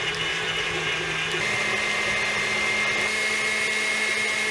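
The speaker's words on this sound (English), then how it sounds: "we're going to attach this whisk attachment. Start it out and go for 5 minutes till it's nice and light and fluffy" Stand mixer fitted with a whisk attachment whipping pistachio buttercream, a steady loud motor whir with no pauses, close by.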